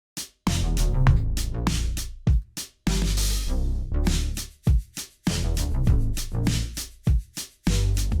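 Full-band indie pop verse with punchy drums and layered instruments, broken by several brief dropouts where the music cuts out before resuming.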